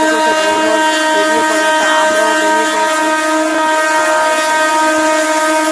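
A train rumbles along steadily with a loud, continuous mechanical drone and sustained tonal whine, rhythmic clatter beneath, heard from close by.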